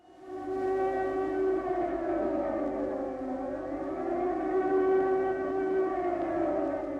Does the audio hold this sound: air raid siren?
yes